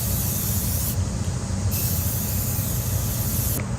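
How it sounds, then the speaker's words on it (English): A spray can coating a wooden art piece with paint, a steady close hiss that runs throughout, with small shifts where the spray briefly pauses or changes, over a low background rumble. "I'm going to give it another coat of paint."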